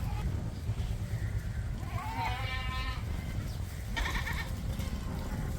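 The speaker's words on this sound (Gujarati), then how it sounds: "બકરા જો બઘડાટી બોલાવે છે નાના નાના ગીદીડીએ" Young goats bleat on a farm in the morning, two or three wavering cries rising over a constant low rumble of outdoor background noise, moderately close.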